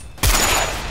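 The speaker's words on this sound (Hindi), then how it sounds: "गंगा ने रोहन के हाथ पर गोली चला दी थी और उसकी बंदूक जमीन पर गिर गई।" A single sharp gunshot rings out in a Hindi horror audio drama, a pistol fired at a man's hand: a sudden loud crack after a quiet lead-in, followed by a sustained noisy ring-out and reverb.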